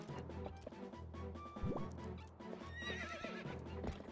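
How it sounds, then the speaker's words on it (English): A horse in the video game Zelda Twilight Princess whinnies once loudly with a rising, wavering neigh, amid hoof clip-clops and game sound effects. "You're bothering my horse. Very rude. Look, they look agitated now."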